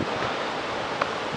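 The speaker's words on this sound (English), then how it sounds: "The Pacific Ocean right after sunset. Very beautiful and calm." Calm Pacific Ocean surf at San Clemente State Beach just after sunset, a continuous soft wash of breaking waves with light wind noise, steady and fairly close throughout.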